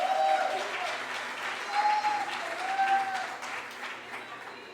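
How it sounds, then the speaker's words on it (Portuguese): Church congregation at a Thursday evening service applauds a man called forward, sustained clapping from the crowd lasting several seconds, with a voice speaking over it. "Quantos aqui podem aplaudir o André aí?"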